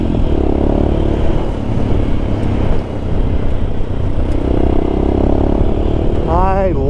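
A single-cylinder 411cc Royal Enfield Scram 411 with a Zard exhaust rumbles steadily nearby while riding through town, its loud engine drone rising and easing, with a person speaking over it.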